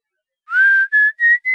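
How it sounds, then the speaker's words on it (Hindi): A person whistles a short phrase of four clear, bright notes, the first rising and longest, then three quick ones, close and loud against silence. "Whistling."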